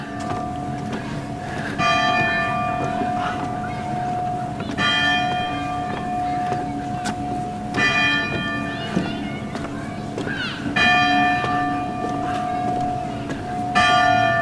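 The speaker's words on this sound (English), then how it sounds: "I missed some of the beginning of the bells" Church bells ring out in repeated bursts of clanging peals against a steady background hum, with faint voices now and then.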